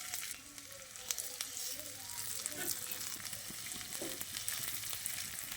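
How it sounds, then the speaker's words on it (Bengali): Papad frying in hot oil gives a steady, close sizzle and crackle with scattered sharper pops throughout, and a voice talks faintly beneath it. "বাকি পাঁপড়গুলো আমি ওই একইভাবে ভেজে নিচ্ছি"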